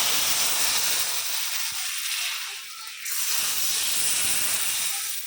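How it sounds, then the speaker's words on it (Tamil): A hot tempering poured into a white pomfret fish curry sizzles loudly and close up as a dense, continuous hiss that eases briefly midway, then surges back. "தாளிப்பை இதில் சேர்த்துக்கிடுவோம்."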